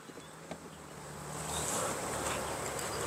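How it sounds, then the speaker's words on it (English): Honey bees buzzing inside a crowded beehive, a dense continuous hum that swells louder after the first moments and then holds steady, with no talk. "There is a lot of bees in here."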